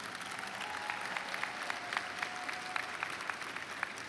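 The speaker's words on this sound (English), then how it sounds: "let's give those families a round of applause" At a college commencement ceremony, an audience claps for the families, giving steady, even applause from a large crowd that carries on through the whole stretch with no voices over it.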